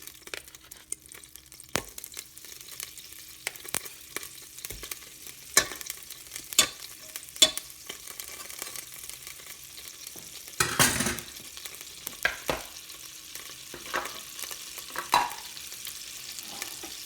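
Butter melts for a gumbo roux in a rice cooker, sizzling softly with faint crackles and occasional stirring scrapes and clinks, quiet and close, with no voices.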